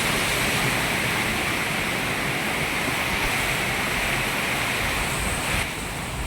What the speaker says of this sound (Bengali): বারান্দাতে বৃষ্টির পানি ছিটে ছিটে আসতেছে